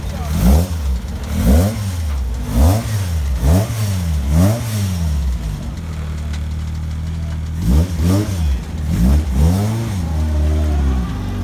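2-litre Hot Rod race cars rev loudly and repeatedly at close range, their engines rising and falling in a steady rhythm, then settling to a lower drone before more revving bursts.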